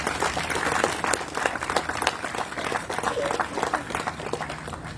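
A community audience at a county overdose awareness event claps steadily for a few seconds, a dense, moderately distant patter of many hands with no voices standing out.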